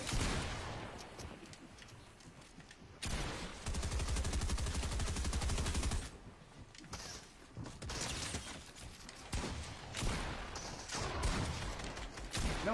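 Video game gunfire crackles in bursts, with rapid automatic volleys and heavier single shots mixed with mechanical clicks and reload sounds, loud and close, with no talking.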